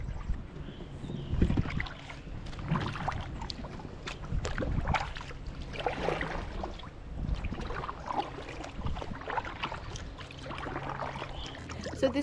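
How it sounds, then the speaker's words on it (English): A folding kayak glides through a bald cypress swamp at Trap Pond, with soft, irregular paddle strokes and water swishing close by under light wind noise, fairly quiet. "So it's really, really amazing to kayak through here."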